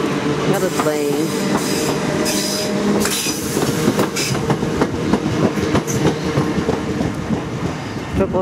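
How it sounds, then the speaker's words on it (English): Train rolling past at Clapham Junction with a rhythmic clickety-clack of wheels over rail joints and some squeal, close and continuous; someone talks briefly over it. "And a train."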